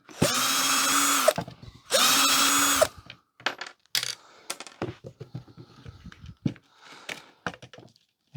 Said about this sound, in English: Let's just take a few more screws out of here.